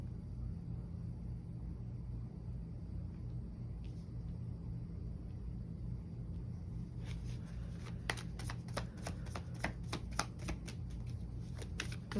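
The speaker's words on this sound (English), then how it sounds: "Let's shuffle it 2 more times" A tarot deck is riffle-shuffled in quick, crisp bursts of rapid flicks that start partway through, following a quiet stretch with a low steady hum.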